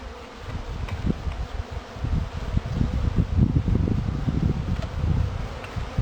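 A dense, agitated buzz of many honeybees during a hive transfer from a nuc, close and steady with swelling intensity, mixed with faint rustling and handling noise.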